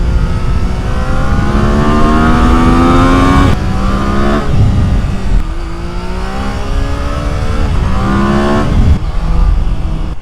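A Triumph Daytona 660 motorcycle engine rises through the gears while riding, loud and close, with repeated climbing revs, each cut by a quick gear change before climbing again, over wind noise.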